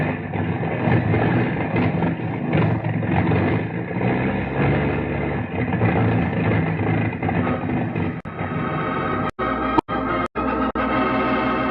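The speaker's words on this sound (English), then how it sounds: "Listen to those engines." Aircraft engines with a clogged feed line drone steadily and loudly through most of the stretch, then cut out in several sharp drops and sputters near the end.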